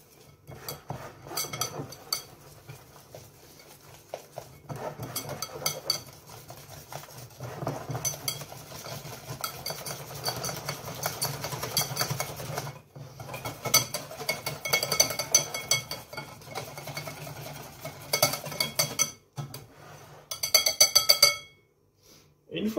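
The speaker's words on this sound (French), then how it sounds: "votre farine, du sel, du poivre, et vous allez mélanger le tout" Flour, salt and pepper mixed with beer in a bowl, brisk metallic clinking and scraping of a utensil against the bowl in busy rhythmic bursts, close and fairly loud, with brief pauses near the end.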